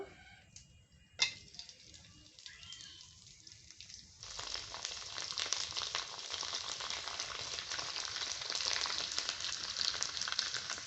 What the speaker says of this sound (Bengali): পাঁপড়গুলো ভাজার জন্য কড়াইতে তেল গরম করে নিয়েছি এখন পাঁপড়গুলোকে ছেড়ে দেব